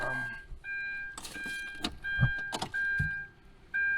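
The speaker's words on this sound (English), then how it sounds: "let me try to start this vehicle" A 2012 Hyundai Santa Fe with a battery that dies over the weekend cranks in a few rough bursts while a dashboard chime beeps repeatedly nearby.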